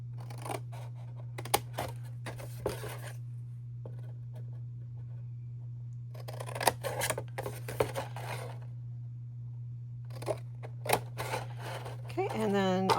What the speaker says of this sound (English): I'm going to use my larger scissors because these are a little bit longer